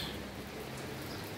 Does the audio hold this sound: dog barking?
no